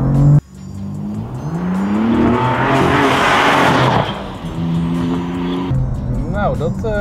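A BMW M4 accelerates hard with a loud, rising engine note and a harsh tire squeal in the middle, close and loud, followed by further revving as gears change.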